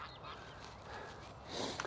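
Geese honk faintly in the distance across open fields beside fresh young grass, with soft outdoor ambience between the brief, scattered calls.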